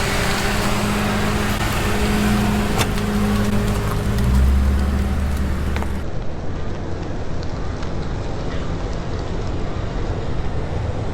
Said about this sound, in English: Guys, we're gonna do a drive-by.